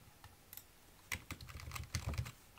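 Computer keyboard typing while working in SketchUp: a quick series of soft, close key clicks, sparse at first and then denser, with no talking.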